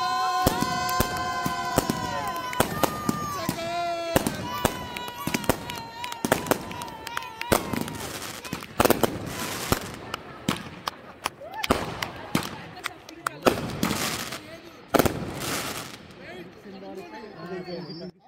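Firecrackers crackle and pop in sharp bursts at a gender reveal party, mixed with a crowd cheering and chattering nearby.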